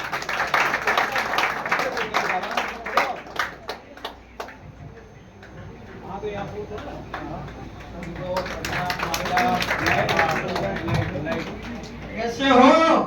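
An audience at a community event for a girls' savings scheme claps to welcome a speaker, with scattered, fairly close claps in bursts under a voice over a loudspeaker.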